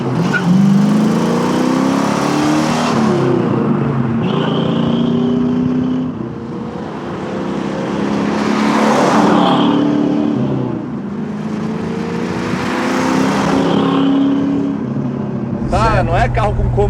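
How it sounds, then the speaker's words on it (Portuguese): A Dodge Charger with a 7.2-litre V8 big block and short differential accelerates in repeated long pulls, its deep engine note rising through gears from inside the car, with someone talking over it. "não tem nada como um V8 Big Block com uma relação de diferencial mais curta"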